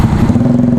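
A motorcycle fitted with an SC Project aftermarket exhaust runs close by, giving a loud, deep, bassy pulsing rumble that stays steady and heavy throughout the short stretch, with no talk over it.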